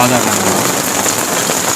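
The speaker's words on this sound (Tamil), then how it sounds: "இந்த டைமில் பார்த்தீங்கன்னா இவ்வளோ மழை வருது" Heavy rain pours steadily outdoors in Kothagiri beside a roadside food truck, a loud, dense hiss that runs unbroken through the whole stretch.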